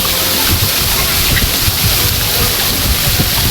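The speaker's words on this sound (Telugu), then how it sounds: "ఎట్లా పడుతున్నాయి చూడండి నీళ్ళు" Water pours down the Pinnapuram waterfall in Nandyal district, Andhra Pradesh, a loud, steady broadband roar that fills the whole clip up close, with faint voices of a crowd underneath.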